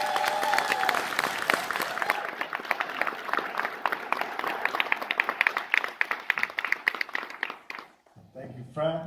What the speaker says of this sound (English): Let's make a huge round of applause and welcome Mr. John Singleton to the stage.